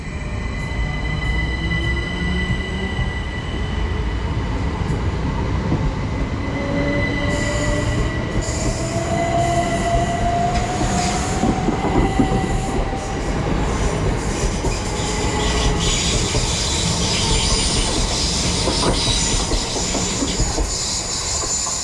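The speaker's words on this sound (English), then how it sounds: "now departing is going to be a Southern service to London Victoria" A Southern passenger train leaves Ifield station for London Victoria, its traction motors whining and rising in pitch over a steady rumble and wheel noise, loud and close throughout with no talk.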